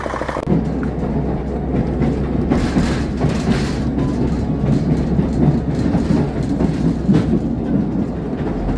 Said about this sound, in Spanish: Está la locomotora.